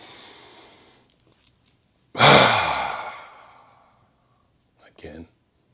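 A person draws a deep clearing breath at close range: a long, loud exhale fades out over about two seconds, followed by a short breathy sound.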